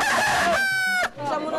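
Fighting rooster at a Philippine cockfight gives one loud, close crow, a drawn-out cock-a-doodle-doo that breaks off, followed by faint background noise.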